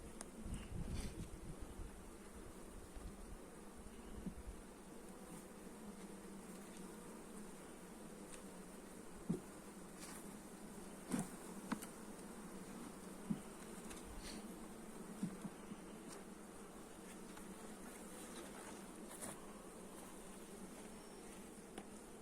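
Steady low buzzing of many honeybees at a hive during beekeeping maintenance, continuous and fairly near, with occasional faint clicks and knocks over the drone.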